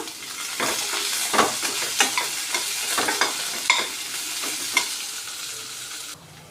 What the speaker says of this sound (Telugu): ఇవి కొంచెం వేగాలి ఉల్లిపాయలండి